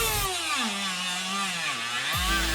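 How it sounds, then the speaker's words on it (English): A Dremel rotary tool with a green teardrop saber tooth bit carves eye holes in a wooden bear. It gives a continuous high whine whose pitch sags as the bit bites into the wood, then briefly changes as it is pulled away. "I'm using a saber tooth bit. It's a teardrop for a Dremel."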